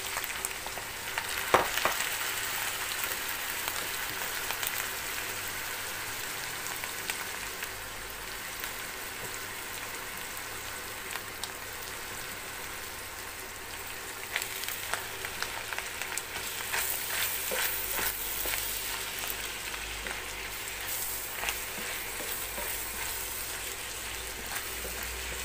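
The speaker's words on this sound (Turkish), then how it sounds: "kıymayı kavurdum şöyle. Şimdi içine soğan ekleyelim." Minced meat and onion fry in a steel pan, giving a steady crackling sizzle that runs the whole time, with occasional louder spatters and clinks near the end and no talking.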